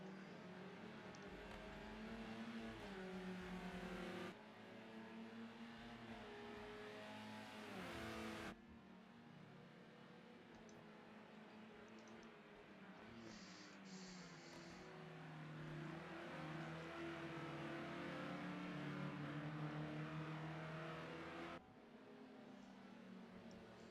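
Race cars in a sim racing game at Donington Park howl continuously as engines rev and shift through gears, with several cars running close together and abrupt changes in tone between camera views.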